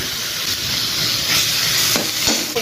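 Eggs stirred into ampalaya (bitter gourd) frying in a pan make a loud, steady close-up sizzle and hiss, with faint scraping of the stirring utensil and no voices.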